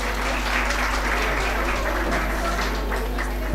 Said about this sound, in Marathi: जोरदार टाळ्या वाजवाव्यात.